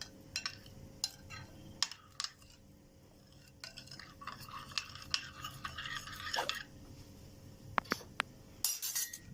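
A spoon stirs and clinks against a bowl while cold-mixed Egyptian koshari dakka sauce of water and seasonings is combined, giving close, irregular scraping taps and clinks with short pauses between bursts.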